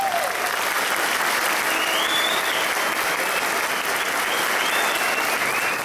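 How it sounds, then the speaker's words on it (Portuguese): An audience at the closing celebration of a national brass choir gathering in a Lutheran church bursts into sustained, dense applause, steady and loud for the whole stretch with no pauses. "uma salva de palmas"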